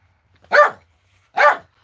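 A dog barks twice, close and loud, two separate harsh woofs about a second apart with quiet between them, heard indoors with no talk.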